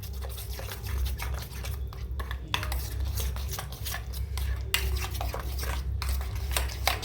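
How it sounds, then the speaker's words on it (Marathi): Brinjal pieces being mixed with oil, turmeric and salt using a metal spoon in a bowl, giving steady close scraping and clinking strokes throughout with no talking. "आता याला चमच्याच्या साहित्यानं मिक्स करून घेऊया"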